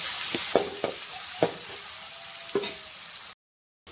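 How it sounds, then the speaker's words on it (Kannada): Onions sizzle steadily in a hot pan for masala Maggi made with wheat flour, with several sharp clicks as they are stirred, before the sound drops out briefly at the end. "ಇವಾಗ ಈರುಳ್ಳಿ ಹಾಕ್ಕೊಳ್ತೀನಿ ಈರುಳ್ಳಿ ಒಂದು ಸ್ವಲ್ಪ ಆಗ ತನ ಫ್ರೈ ಮಾಡ್ಕೊಳ್ಳೋಣ"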